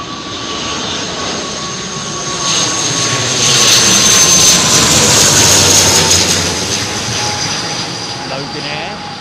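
A Loganair aircraft landing in a gusty crosswind at Heathrow, engine whine and roar swelling louder as it passes close, then easing off, with a steady high tone and a voice talking over it.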